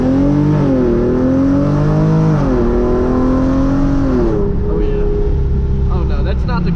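A Genesis Coupe 3.8 with ARK downpipes accelerates hard, its loud, close exhaust rising through the gears with rev drops at the shifts before easing off near the end.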